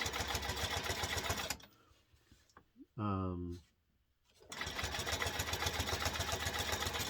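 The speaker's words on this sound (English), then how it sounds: "I have a pedal. I'm controlling the speed of the needle." Sewing machine stitching while quilting, speed set by a foot pedal: a loud, steady mechanical whir runs for a second and a half, cuts out, then returns and continues to the end, with a brief voice in the gap.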